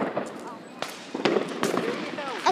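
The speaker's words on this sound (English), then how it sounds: "Fireworks." Fourth of July fireworks pop and crackle in a few sharp, moderately distant bursts, with excited voices and whistling sounds between them.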